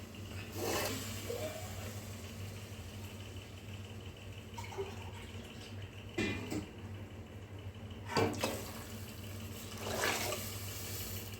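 Water is poured in short splashing bursts into a cooking pan while making a Maharashtrian coconut bhaji, several separate pours over a low steady hum.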